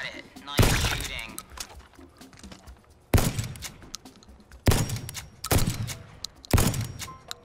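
Several sharp gunshot blasts from the PSVR arcade shooter Shooty Fruity, a long burst early then four loud separate shots spaced about a second apart, with quieter game sounds between.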